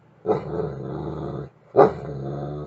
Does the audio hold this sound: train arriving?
no